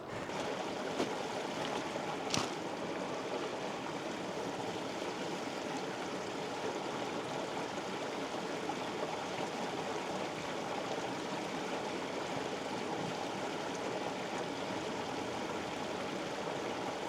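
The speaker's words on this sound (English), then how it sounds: "just at the top of the waterfall section" A mountain stream rushes steadily near the top of a waterfall section below Easedale Tarn, a constant close, full roar of tumbling water that goes on alone with no talk.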